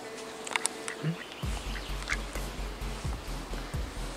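A duck quacking close by at the water's edge, a series of rhythmic, raspy quacks repeating roughly every half second after a brief quieter start.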